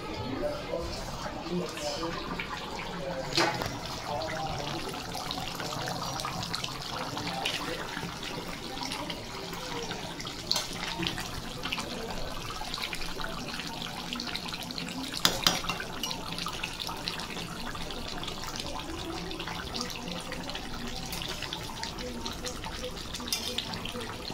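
Water runs and splashes steadily at low volume for the whole stretch in a home kitchen where chicken is being cooked, with faint background activity and a few brief knocks.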